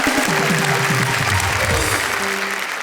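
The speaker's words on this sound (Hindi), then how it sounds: "तालियां हो जाए भाई" A studio audience at a Hindi comedy poetry show claps loudly and continuously after a call to applaud a performer, a dense wash of clapping with a steady low tone running beneath it, and no talk over it.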